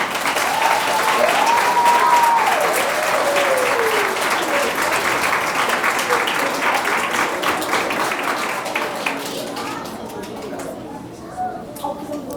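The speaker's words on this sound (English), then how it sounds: "let's give them a round of applause for their hard work." Audience at a Gomes School Black History Month assembly applauds the school ambassadors, steady dense clapping throughout that thins toward the end, with a voice heard over it.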